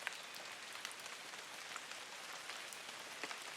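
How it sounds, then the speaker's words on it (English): Rain falls steadily onto a surface, a soft, dense patter of countless drops with occasional slightly louder taps, quiet and even, with no voices. "The rhythm of rain depends as much on pause as on impact."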